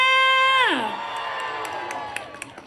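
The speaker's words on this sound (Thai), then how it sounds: "ขอเสียงปรบมือด้วยค่ะ" A large crowd cheers and whoops loudly, a sustained roar of many voices with a few sharp claps or shouts near the end.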